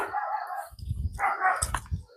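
Several dogs bark and yip in quick bursts on a mountain campsite trail, fairly close, with a few overlapping barks near the end.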